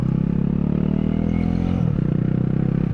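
A Honda Rebel 250 SE motorcycle with E-Clutch idles with a low, even rumble, then shifts as the bike pulls away, close and steady.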